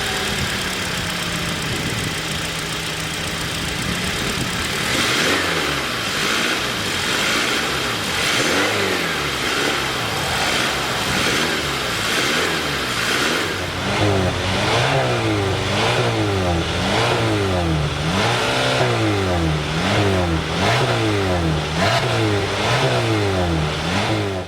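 A 2022 Hyundai Tucson's 2.5 liter inline-4 starts and idles, then its revs swing up and down in a steady repeated cycle, close and loud with no talking.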